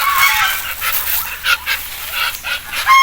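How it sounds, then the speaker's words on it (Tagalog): Ducks quacking loudly and repeatedly at close range as they are fed outdoors in the morning, harsh honking calls overlapping in bursts, with no talking. "Mga lagang pato."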